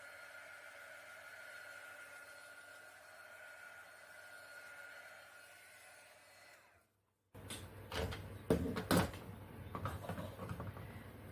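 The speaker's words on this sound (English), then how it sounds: "I'm going to hit this with a heat gun quick" A heat gun blows hot air in a steady, low hiss for several seconds, quite faint. The airflow cuts off, and clattering knocks and handling noises from the work area follow.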